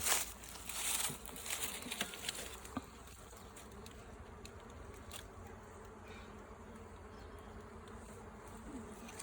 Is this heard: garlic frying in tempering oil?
no